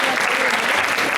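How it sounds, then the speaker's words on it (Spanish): An audience gives a loud, dense round of applause for primary school students after their debate presentation, continuous clapping that stays strong and even throughout. "Un fuerte aplauso para ellos."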